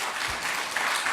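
A church congregation in a Sunday service gives a brief, dense burst of applause, many hands clapping together as an even hiss of sound.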